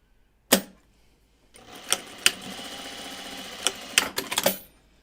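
A sewing machine stitches a Kelly Anorak jacket from Closet Core Patterns. A single sharp clack comes first, then about three seconds of steady whirring stitching with small clicks, ending abruptly.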